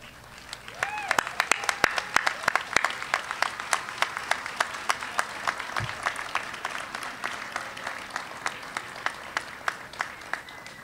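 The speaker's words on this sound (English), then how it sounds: "Graduates, please rise and applaud all of those who have supported you." Graduates applauding their supporters at the Columbia Southern University Class of 2015 commencement, a broad sustained wash of clapping from a large crowd, with individual sharp claps and a few whoops rising above it.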